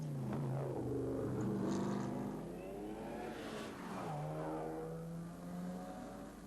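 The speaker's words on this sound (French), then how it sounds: "qui restent intrigués à chaque départ de voiture" A classic racing car in the 1997 Tour Auto rally pulls away, its engine revving hard through rising and falling gear pitches. The sound stays loud and close, then fades slightly as the car leaves.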